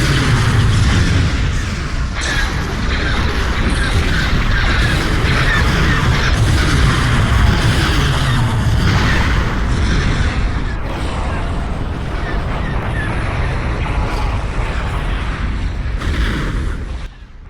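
Dense, continuous barrage of booming blasts and explosions from secondary weapons fire in a Star Wars space battle video game, loud and sustained with repeated bursts layered over one another and no clear pauses.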